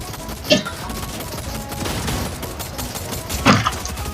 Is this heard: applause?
no